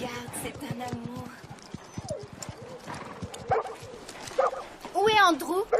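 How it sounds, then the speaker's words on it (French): A dog in an animated horse-riding show lets out a few sharp barks amid hoof clatter and background activity, with people talking around it. "c'est un chien"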